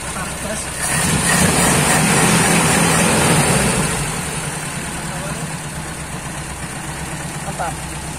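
A car engine fitted with motorcycle-part ignition runs at a steady idle, loud and close, with a brief rise in the first seconds before settling into an even hum.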